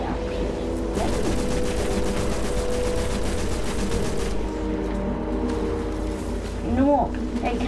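Sustained automatic gunfire in the sci-fi shooter game Destiny, a dense chatter of shots at steady volume with someone talking over it and a brief whooshing sweep near the end.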